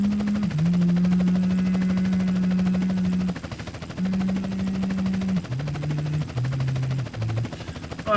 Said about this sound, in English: Oh, the heli blades.